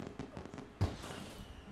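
Fireworks in The Sims 4 go off with a single sharp bang after a few soft pops and crackles, moderately loud in the game's background ambience.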